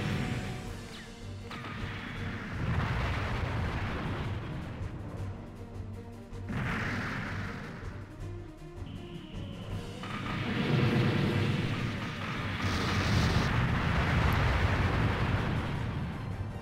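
Missile strikes in the strategy game Gihren's Greed, a series of heavy crashing explosions and rumbling booms that swell and fade in waves, loud and continuous with no voice over them.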